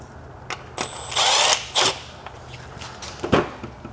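A power tool spins briefly to start a bolt on an 8HP automatic transmission during a service, two short whirring bursts amid faint clicks and clunks of work in a quiet garage.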